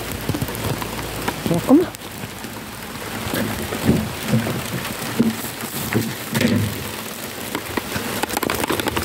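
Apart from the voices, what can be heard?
heavy rain falling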